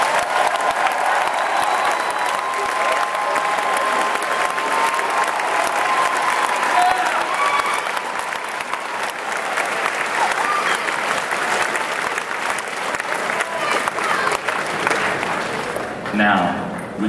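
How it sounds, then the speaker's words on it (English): Sustained applause fills a large hall at the 2013 Pokemon World Championships closing ceremony, a dense, even roar of clapping from a big crowd that continues for over fifteen seconds before tapering off. "Let's give all of our 2013 Pokemon World Championship players a round of applause."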